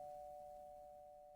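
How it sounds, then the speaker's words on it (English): A doorbell rings in the video game Doki Doki Fallen Angel, a single steady electronic tone that fades slowly, faint and clean with no talking. "my head jerks into the sudden sound of my doorbell"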